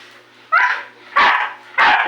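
Dog barking while being bathed: three loud, close, evenly spaced barks with a whining edge, separated by brief quiet gaps.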